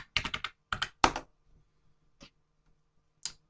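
A password is typed on a computer keyboard: a fast cluster of crisp key clicks, a short pause, more quick clicks, then two isolated taps, close and clear in a quiet room.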